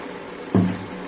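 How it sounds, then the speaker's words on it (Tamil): Water splashes into a cooking pot for chicken biryani in a home kitchen. It comes as one brief, close splash that rises suddenly out of a quiet background and quickly settles. "தேவையான அளவு தண்ணி ஊற்றியாச்சு."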